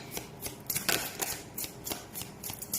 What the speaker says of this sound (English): as I go ahead and shuffle the cards